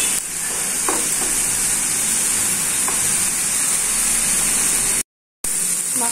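Spices and grated coconut stir-fry in a pan for green banana kofta, giving a steady close sizzle with occasional scraping stirs and a brief dropout near the end.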